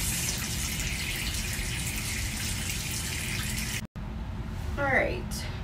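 Tap water runs steadily into a sink as a face is rinsed, a continuous close rushing gush that cuts out briefly, then resumes with a light splash and a short voice sound over it.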